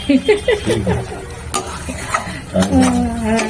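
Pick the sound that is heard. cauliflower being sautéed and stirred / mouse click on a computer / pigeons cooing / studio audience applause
cauliflower being sautéed and stirred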